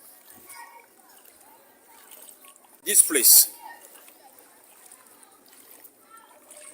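Floodwater at Kejikope on the Togolese coast surges and splashes in one loud burst lasting about half a second, between stretches of someone talking over a quiet watery background.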